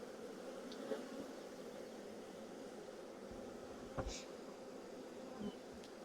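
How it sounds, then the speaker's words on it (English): A honeybee swarm heavy with drones hums in a dense, steady buzz that fills the whole stretch, with a few louder individual bees passing close by. "There's a couple of bees right up here at the top."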